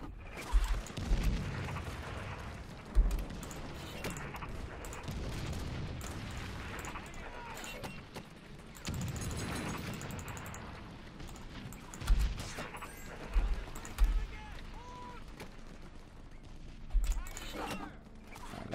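Battle gunfire and artillery from German divisions, backed by Panzer units, attacking Soviet forces in the strategy game Hearts of Iron 3. A continuous rumbling din is punctuated by repeated heavy booming bursts at irregular intervals.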